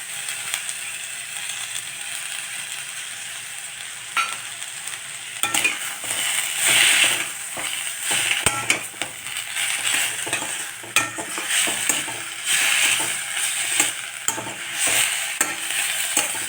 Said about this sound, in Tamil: கொஞ்சம் தக்காளி வதங்கிறதுக்காக இப்போ கொஞ்சம் உப்பு சேர்த்துடலாம்